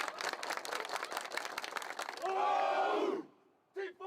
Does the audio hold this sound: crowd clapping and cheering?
yes